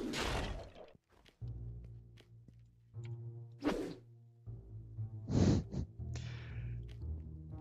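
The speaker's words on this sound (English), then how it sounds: "Now they shoot the wall." Enemies shooting at a wall in the video game Hero's Song: scattered thunks, whooshes and sharp impact bursts at uneven intervals, with a low sustained tone running underneath.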